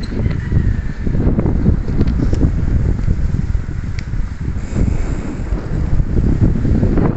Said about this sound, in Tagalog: Mahangin ha.